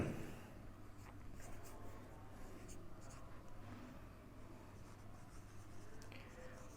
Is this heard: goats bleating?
no